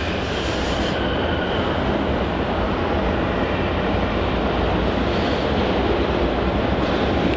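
An Airbus A321-200 airliner arriving from the Gold Coast at Melbourne Airport gives a steady, loud, broadband jet roar that fills the whole stretch without a break and with no talk over it.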